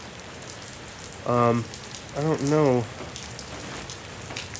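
Rain falling on a Six Moon Designs Gatewood Cape shelter, a steady close patter and crackle of drops on the fabric throughout, with someone talking briefly over it.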